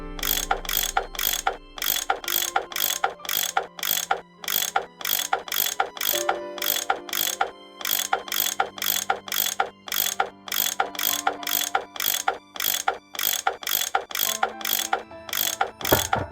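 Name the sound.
tool unscrewing bolts in Nancy Drew video game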